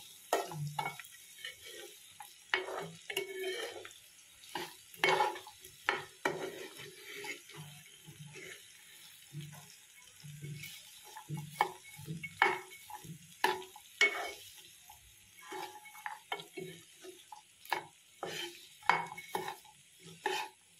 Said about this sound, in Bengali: এবার এটাকে 2-3 মিনিট ভাজা হবে।